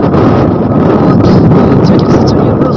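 Strong wind from a snowstorm roars steadily into the microphone, loud and continuous with a dense buffeting rumble throughout.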